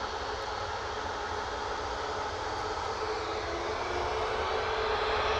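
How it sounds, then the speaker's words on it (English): Steady broadband jet roar from a brand new TUI Boeing 737 Max 8 taxiing out at Manchester Airport, continuous and fairly loud, building slightly toward the end with no talk. "Mike's saying there's a brand new TUI Max 8 taxiing out"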